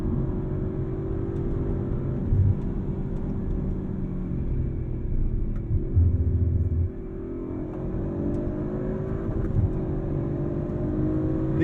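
Engine of a 2022 Audi RS5 Sportback pulling hard toward its 7,000 RPM redline in manual mode, a steady interior rumble and rising drone with short dips at gear shifts.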